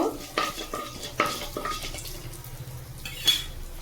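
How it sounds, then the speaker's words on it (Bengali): Black cumin and fenugreek seeds spit in hot oil after bitter gourd frying while a metal spoon scrapes and stirs the pan, several sharp clanks over a soft steady sizzle. "ওই তেলের মধ্যে আমি দেব কালো জিরে আর মেথি ফোড়ন দিয়ে দিলাম নেড়ে নেব"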